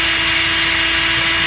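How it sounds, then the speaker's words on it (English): A power drill boring into a seized EGR bolt on a 6.7 engine, running as a steady, loud, continuous whine held at constant speed with no voices. "I need to just drill it"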